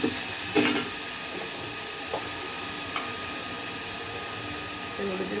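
Onion, garlic and tomato fry in a pan for a brinjal dish, giving a steady close sizzle and hiss with a few faint knocks.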